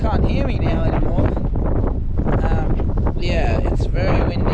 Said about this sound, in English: It's quite windy. All the leaves are rustling.